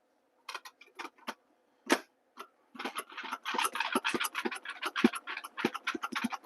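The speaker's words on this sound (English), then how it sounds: "The noise you're hearing is my hot water kettle." Hot water kettle heating in a kitchen gives scattered crackling ticks that thicken into a dense rapid popping rumble, moderately faint and close, with no talk over it.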